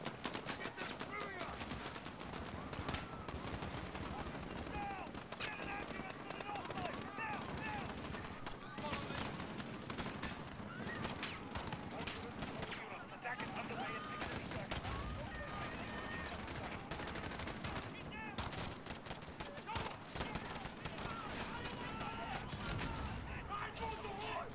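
Dense, continuous gunfire and machine-gun bursts fill a battle in Call of Duty: Modern Warfare, steady and loud throughout, with shouted voices mixed into the chaos.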